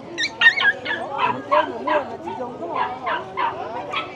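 A black dog for sale at a highland Sunday market in Mèo Vạc, Vietnam, gives a steady run of yipping barks, moderately close, while people talk over them throughout.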